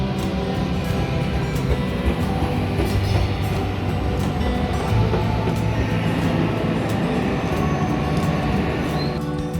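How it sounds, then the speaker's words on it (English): An Orange Line light rail train bound for Parker Road Station rumbles steadily along the rails, a loud, continuous low roar with faint clatter and occasional higher metallic tones, no voices. "caught another Orange Line train bound for Parker Road Station"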